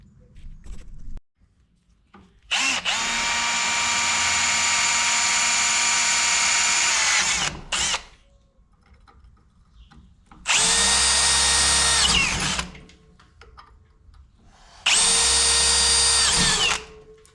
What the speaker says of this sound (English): I just need to drill all these holes